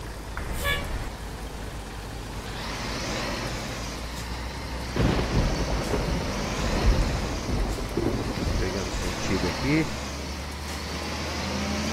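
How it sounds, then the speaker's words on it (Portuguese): Heavy rain pounding down during a thunderstorm in Euro Truck Simulator 2, a steady roar of rain with rumbling surges, a horn-like toot near the start, and a person talking over it. "chuva tá caindo com pressão, hein?"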